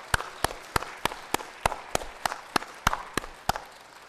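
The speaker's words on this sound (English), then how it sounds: "So let's give a round of applause to kick things off this morning." Applause marks the NASDAQ opening bell ceremony during a Donate Life Month celebration. It comes as a steady run of sharp, evenly spaced claps, close and distinct, with no voices.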